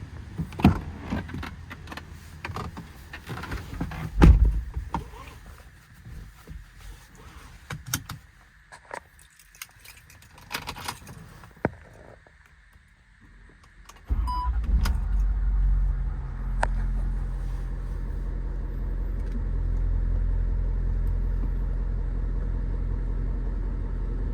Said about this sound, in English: I'm going to hop in the truck and take it for a spin.